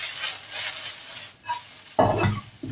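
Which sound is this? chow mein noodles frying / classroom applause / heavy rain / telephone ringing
chow mein noodles frying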